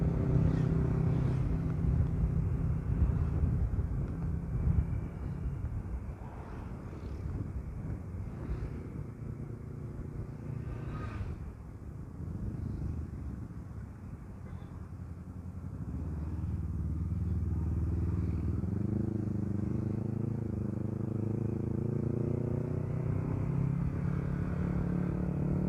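Honda Click V3 scooter ridden on a road, a low steady engine drone and road rumble from onboard, pitch rising as it accelerates toward the end.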